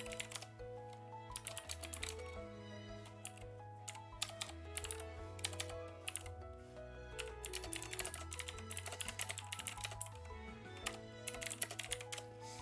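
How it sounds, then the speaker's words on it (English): Typing on a computer keyboard rattles along in quick, steady clicks for the whole stretch, under continuous background music with a thumping beat. "welcome everyone to my keyboard typing ASMR stream"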